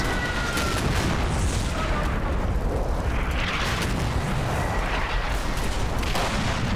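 Loud, sustained machine gun fire in the Combat Mission: Battle for Normandy video game, a dense rattling roar mixed with booming battle noise that runs without pause.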